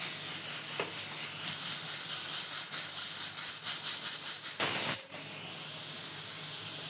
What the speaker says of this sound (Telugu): మూడు విజిల్స్ వచ్చాయండి.